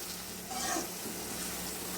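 Kanthari chilies fry for pickle in a pan, giving a short, steady sizzle with a brief stirring swell in the middle.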